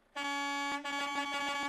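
Truck horn in Euro Truck Simulator 2, a loud, close, steady tonal blast with a brief dip before it sounds again.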